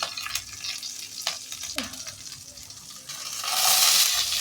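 Panch phoron and green chillies tempering in hot oil, a soft crackling sizzle with a few scattered pops and clinks that swells into a brighter, louder hiss near the end.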